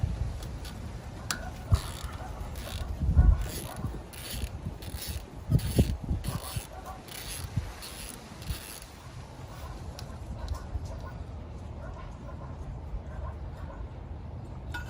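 Tools clank and ratchet as a bracket is worked loose from the cooling system of an old MGB, with scattered metallic knocks and clicks up close, louder bursts in the middle and a steady low background hum.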